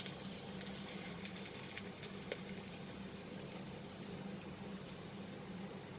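Bay leaf and whole spices dropped into hot oil in a pressure cooker, giving a steady, close sizzle and crackle with a few sharp pops early on, and no talking.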